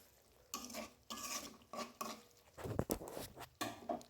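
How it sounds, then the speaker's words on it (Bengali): Fried tuna fish being stirred into spice paste in a pan, with a spoon scraping and clinking against the metal in irregular strokes and a soft sizzle underneath, close and fairly quiet. "আর এই তো দেখুন মাছগুলো দিয়ে দিলাম। এখন ভালো করে মিশিয়ে নিচ্ছি।"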